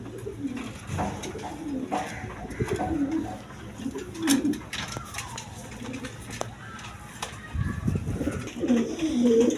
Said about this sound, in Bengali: দশমী দা এখানে এক পেয়ার কবুতর আছে